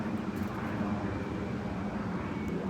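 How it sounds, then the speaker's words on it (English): Jet aircraft passing high overhead outdoors in New England, a faint, steady broadband roar with no other sounds over it. "Jet."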